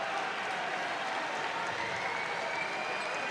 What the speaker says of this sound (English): The crowd really getting into it here.